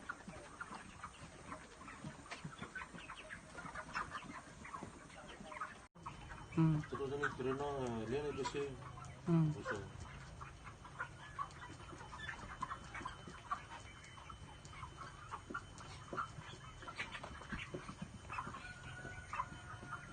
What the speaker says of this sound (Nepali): ब्रोइलर जातको कुखुरा हो